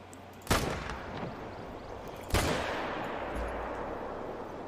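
Two loud, sharp rifle shots ring out about two seconds apart while hunting in TheHunter: Call of the Wild, each followed by a rolling echo that fades into quiet outdoor ambience.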